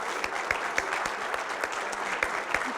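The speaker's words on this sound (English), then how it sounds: "Let's give that a round of applause." An audience at a State of the Region address applauds. The clapping is steady and moderately loud for the whole stretch, with a few sharper individual claps standing out at a loose rhythm.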